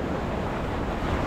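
Ocean waves washing on Miami Beach, Florida, a constant rushing wash of surf blended with wind buffeting the microphone, fairly loud and unbroken.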